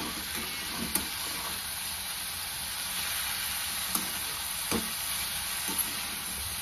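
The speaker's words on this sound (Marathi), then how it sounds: "आता आपल्याला मेथीची भाजी अगोदर हलवून घ्यायची" Fenugreek leaves sizzle steadily in a hot pan as they are stirred, a continuous frying hiss with a few soft scraping clicks from the spoon; no talking.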